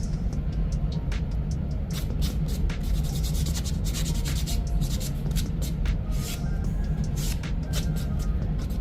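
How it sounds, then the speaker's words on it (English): Acrylic nails being buffed during an acrylic fill, a steady close-up rubbing and scratching texture that keeps going for the whole stretch with no talking. "See what it looks like before buffing."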